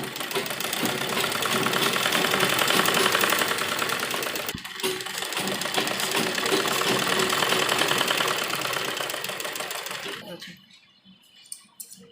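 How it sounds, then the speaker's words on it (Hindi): A sewing machine stitches fabric for a lined A-line palazzo, running as a fast, steady mechanical whir for about ten seconds with a brief hitch midway before stopping, with no talking. "थोड़ा सा फोल्ड करेंगे और फिर इसको सिलाई लगाएंगे।"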